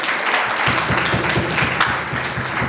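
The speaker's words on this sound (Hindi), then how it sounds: "इसके लिए ताली मार दो" Steady, dense applause from a church congregation at a Sunday service fills the space, with a faint rhythmic beat of claps pulsing underneath throughout.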